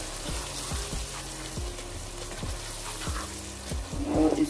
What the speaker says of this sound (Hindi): तो अब हम इसके अंदर पहले बैंगन ऐड करेंगे जो मैंने काट दिया है, मैंने इनको ऐड करने के बाद इसको अच्छे से मिक्स करेंगे।